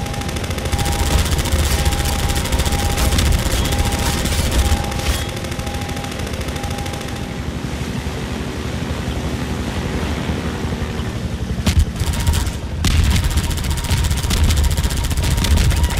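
Half-Life 2 helicopter boss fight: continuous loud rattling machine-gun fire and roaring rotor noise, sustained throughout with brief dips, and no talking.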